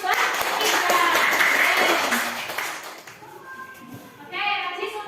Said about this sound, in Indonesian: beri tepukan untuk Mbak Ika